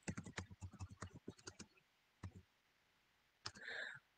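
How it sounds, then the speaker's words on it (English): Rapid clicks of someone typing on a computer keyboard, a quick run of keystrokes followed by a pause, a couple more taps and a short brighter noise, all quiet and close. "let me just type in here"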